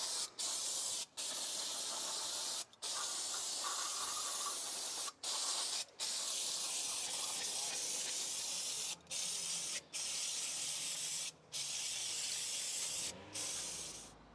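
Brake cleaner sprays from an aerosol can onto brake calipers still mounted on a car, close continuous hissing bursts broken by about a dozen brief pauses, with no talking.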